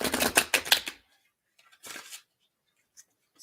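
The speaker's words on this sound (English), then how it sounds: "let's shuffle it once" Oracle cards are shuffled in a quick burst of crisp riffling lasting about a second, followed by near silence broken by a short rustle and a faint tap.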